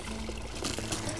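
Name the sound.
water flowing out of the Mārupīte stream outlet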